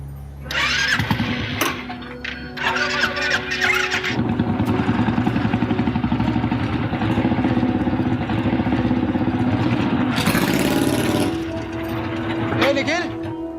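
A new motorcycle engine starts up and settles into a loud, steady, close rumble lasting several seconds, with voices talking over it.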